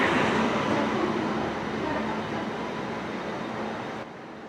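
Janshatabdi Express running on the Konkan railway, a loud steady broadband rumble that fades slightly near the end.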